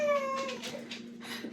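A small, high-pitched wailing cry rises and falls a few times, thin and somewhat distant, with a steady low hum underneath.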